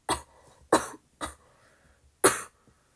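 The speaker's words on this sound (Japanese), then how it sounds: "ごめん、まだ咳出る。" Four sharp coughs, close and fairly loud, spaced unevenly with brief quiet pauses between them.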